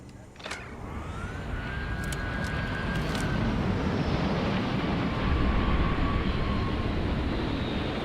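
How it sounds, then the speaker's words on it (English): A spaceship in a Star Wars video game arrives with a steady roaring engine rumble that builds and holds loud through the clip, with faint tonal sweeps over it and a few brief sharp clicks early on. "That's a ship arriving."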